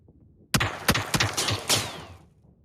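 Gunshots ring out in a video game, several loud, close shots in quick irregular succession over about two seconds, each one cracking and decaying, with no talk.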